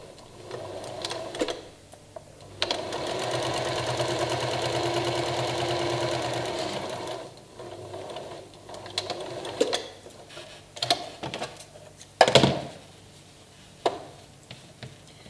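A sewing machine stitches the long edge of one fabric strip to the short end of another for a slanted strip bag, running in a steady sustained burst and then in short intermittent bursts with small handling clicks between.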